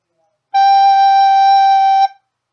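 One steady, pure recorder note, G, is held for about a second and a half, loud and close, with a soft breathy start and a clean stop.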